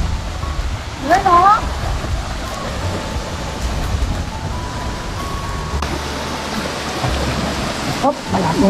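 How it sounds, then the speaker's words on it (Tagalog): Heavy rain during a hike near a waterfall on Mt. Kapigpiglatan, San Narciso, Zambales: a dense, steady hiss of downpour throughout, with voices and brief calls over it. "malakas ng ulan."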